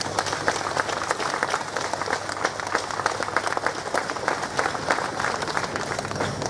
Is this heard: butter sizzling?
no